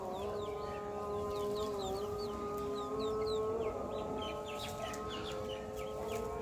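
Tiger chickens in a coop making soft, scattered clucks and chirps over a constant droning hum that runs throughout, fairly quiet and steady.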